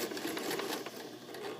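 A sewing machine stitching in reverse runs in a soft, fast, steady mechanical whir with light rapid ticking, close and faint, no voices.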